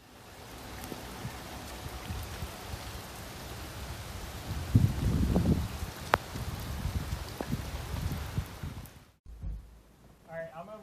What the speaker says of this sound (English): It started raining like crazy